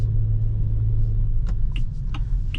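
A 2025 Geely Starray with a 1.5-litre 174 hp engine rolls slowly through a garage at night, a low steady engine rumble close and constant with a few faint squeaks on top.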